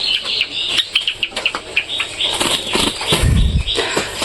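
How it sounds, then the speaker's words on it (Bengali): Two Java sparrows flutter and chirp close by, with busy wing flaps and short, high tweets running through the whole stretch and a brief thump of heavier flapping near the end. "দেখো বন্ধুরা জাবা পাখি দুটা"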